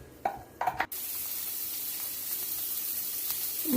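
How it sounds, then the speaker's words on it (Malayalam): Coconut oil hits a hot pan after two brief clinks, then a steady, loud sizzle and hiss runs without a break to the end. "ചട്ടി വയ്ക്കുക, കുറച്ച് വെളിച്ചെണ്ണ പാരുക"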